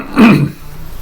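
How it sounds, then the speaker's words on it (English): A single short, rough throat clearing close by, a brief guttural rasp that fades quickly into quiet room noise. "I keep needing to clear my throat a little bit."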